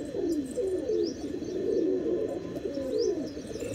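Teddy pigeons kept by a hobbyist coo softly and repeatedly at close range, with low rolling calls overlapping for a few seconds and faint chirps above them.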